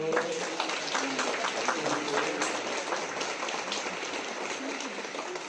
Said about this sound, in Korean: 네, 우리 박수 한번 쳐주세요.